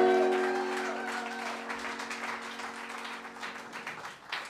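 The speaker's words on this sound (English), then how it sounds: "Please give them a round of applause." Concert audience applause for the band, a dense wash of clapping that fades gradually as a sustained stage tone dies away beneath it, with a few scattered claps near the end.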